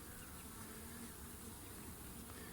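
Honeybees in an open hive gather around a caged queen set on top, making a dense, steady, faint buzzing hum that runs unbroken, with no voices.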